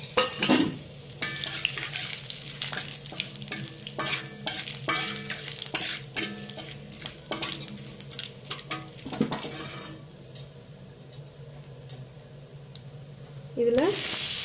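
Cinnamon, fennel seeds, cardamom, cloves and a bay leaf sizzle in hot oil in a pan while a spoon stirs and scrapes them in irregular bursts, loud and close, with a pause before a final burst of sizzling.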